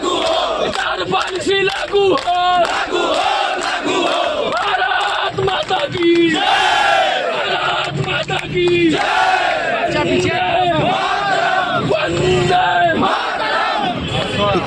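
A large street crowd of Uttar Pradesh mission workers at a candle march remembering dead colleagues chants loudly in rhythmic, repeated shouted slogans, many voices together, close and continuous throughout.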